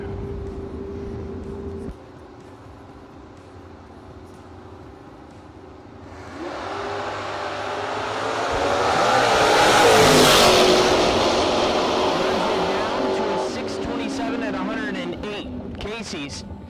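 A first-generation Camaro drag racing at a dragway, its engine rising to a loud, roaring pass and then fading, under an announcer's continuous commentary.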